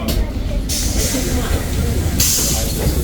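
Steady low rumble and hiss inside a train arriving at a station in Brussels, with brief bursts of high hissing like brakes or air release as it slows.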